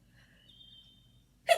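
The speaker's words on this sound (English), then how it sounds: "Had to sneeze real quick." A single sharp sneeze bursts out near the end, close and loud, after a faint tonal whistle and a low background hum.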